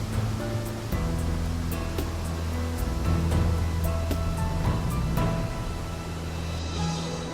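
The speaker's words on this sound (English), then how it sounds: "it's the tallest waterfall in North America" Yosemite Falls, over 2,400 feet tall, pours into the valley as a steady, dense rushing roar heard from a distance, with faint scattered clicks over the constant water noise.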